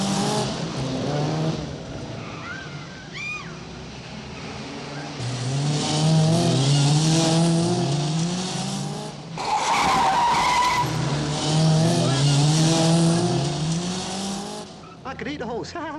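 Cars skidding with squealing tires and revving engines during a film stunt scene, long loud runs of skids that rise and fall over about sixteen seconds, with a voice talking over parts of it.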